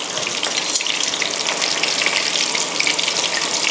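Turmeric-marinated pork neck deep-frying in hot oil gives a dense, steady crackling sizzle with fine popping bubbles throughout, close and even in loudness, no voices.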